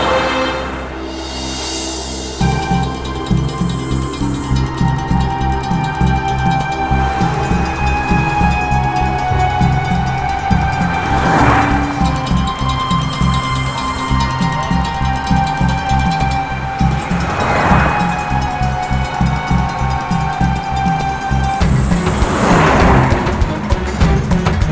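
A car drives along at steady speed with a constant low engine drone, interior road noise and periodic swelling whooshes from passing traffic, continuous throughout with no talking.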